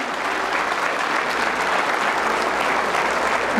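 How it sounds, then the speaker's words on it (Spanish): Dense crowd applause at a jaripeo rodeo at Rancho La Mision in Juchitepec, a loud, even roar of many hands clapping close and continuous for several seconds. "¡Aplausos para el Señor de las Agonías! ¡Dale ese aplauso!"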